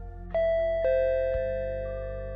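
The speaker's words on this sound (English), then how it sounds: "That's when the door chime rang." A shop door chime rings in three descending tones, each bell note struck cleanly and left to ring out and decay slowly with no voices.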